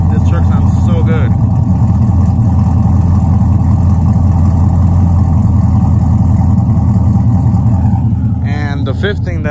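A Chevrolet Silverado pickup's 4.8-litre V8 engine idles and rumbles loudly nearby, a steady deep throb with a brief higher whine near the end.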